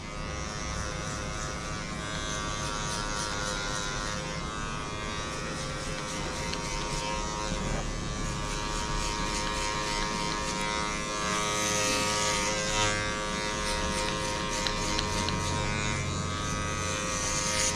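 An electric hair clipper fitted with a number one guard buzzes steadily and close up as it cuts a straight men's haircut in a barbershop training session.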